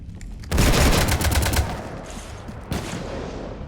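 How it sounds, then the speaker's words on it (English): Rapid automatic gunfire bursts raking a ship in the video game Mass Effect 3, a loud dense fusillade that breaks out abruptly, then trails into a second, slightly softer volley. "You want to stop shooting up my ship?"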